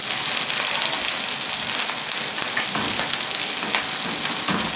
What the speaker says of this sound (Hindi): अब मैं अपनी सारी सब्जियां इसके अंदर डाल दूंगी। और अब मैं इसे अच्छे से ज़रा स्टर कर लूँगी।